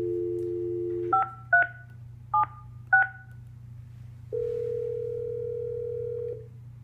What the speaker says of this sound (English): You can also access dial tone by hitting the speaker key here at the bottom of the phone.